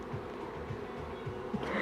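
Honeybees buzz at an open beehive, a steady, dense drone that holds close and even throughout, with no voices.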